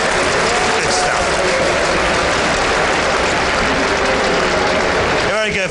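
A large crowd applauds at the WCS Season 2 Finals esports match at Gamescom 2013 with a loud, dense, continuous clapping roar that holds steady throughout, as close as if among the audience.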